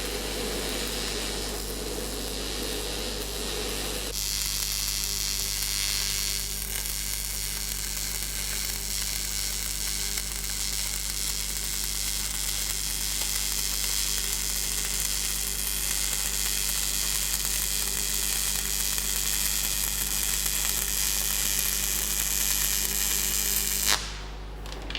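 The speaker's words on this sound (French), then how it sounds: "La soudure s'exécute en gardant l'électrode au fond du chanfrein" Stick electrode welding arc sizzling steadily inside a bevel joint with a coated electrode, a continuous loud crackling hiss beginning abruptly after a few seconds of hum and running unbroken to the end.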